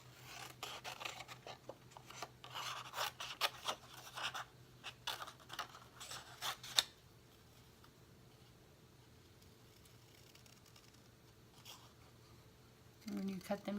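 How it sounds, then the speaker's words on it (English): Scissors fussy cutting small paper card pieces, a close run of quick crisp snips and rasping slices for several seconds, then near silence before a faint rustle of handling paper at the end. "They're easy to fussy cut."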